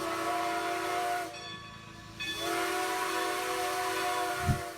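A steam locomotive whistle on display at the Curitiba railway museum in Brazil sounds as a sustained, steady tonal blast. It stops briefly in the middle and then resumes. No one speaks.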